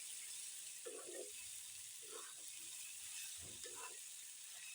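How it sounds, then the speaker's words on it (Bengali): Chopped green chillies and other spices frying and being stirred together in a pan for a jackfruit seed and dried shrimp dish, a faint steady sizzle under a few short scraping stirs. "এগুলো সবগুলোকে ভালো করে নেড়েচেড়ে একসাথে ভেজে নেব"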